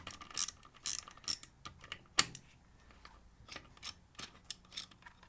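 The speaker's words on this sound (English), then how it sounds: "what we need to do is to create some room by loosening the bolts on the pre-silencer" Ratchet clicking away at the pre-silencer bolts on a KTM Duke motorcycle exhaust, close up, in several short bursts of rapid clicks separated by brief pauses, with no talking.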